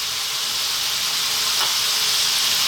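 Sliced onion and a generous amount of black pepper sizzle steadily in pork fried rice with belly pork, a loud, continuous hiss with no pauses and no talking.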